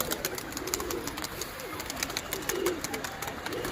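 Pigeons coo repeatedly in an outdoor flock setting, low throaty calls under a busy background of bird chirps and ambient noise, fairly close and steady throughout.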